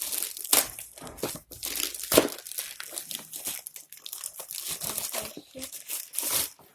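Plastic packaging on a game console crinkles and crackles in bursts up close, with sharp rustles and tearing sounds as wrapping is pulled apart.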